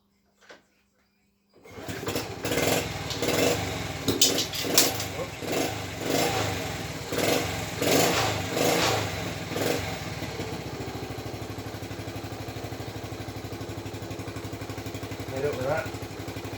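A Honda ST50 motorcycle's small engine fires up after a brief silence and keeps running at a steady, busy idle nearby, with a clattering, sewing-machine-like rhythm and a few revs early on.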